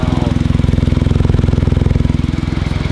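A car fitted with a Spoon exhaust idles up close, giving a loud, steady, rapid low pulsing throb with no talk over it.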